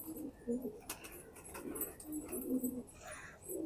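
Soft pigeon coos repeat in low murmuring phrases at close range, with faint rustling and light background noise between them.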